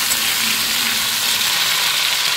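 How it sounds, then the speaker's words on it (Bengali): Potatoes frying in hot oil for bhog khichuri, giving a dense, even hiss of sizzling that stays loud and close throughout, with no voices. "একইভাবে আমি ফুলকপিটাও ভেজে নেব লাল লাল করে।"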